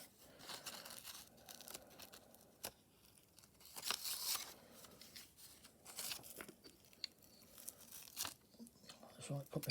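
A homemade seax knife slicing through paper, giving short crisp tearing and crinkling cuts scattered unevenly through a quiet room, faint and close, with occasional talk.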